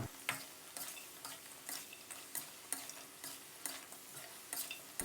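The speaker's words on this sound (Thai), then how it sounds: "แล้วก็ให้เราผัดคลุกเคล้าให้เข้ากันนะครับ" Soft, rhythmic scraping and clatter of chicken and cashews being stir-fried in a pan over a quiet sizzle, with regular strokes about twice a second; no voices.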